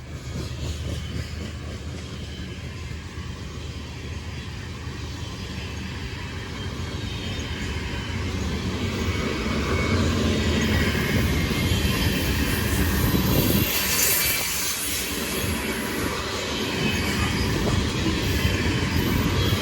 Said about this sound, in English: This is the Amtrak 281 here